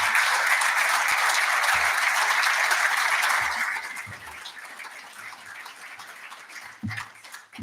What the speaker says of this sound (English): a big round of applause for all the recipients this afternoon